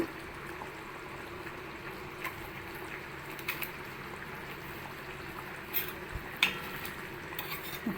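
A spoon stirs an egg and potato curry in a pan, making soft scraping swishes broken by a few faint clinks of metal against the pan over a low simmer, with no talking.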